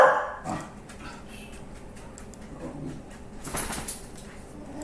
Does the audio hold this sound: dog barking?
yes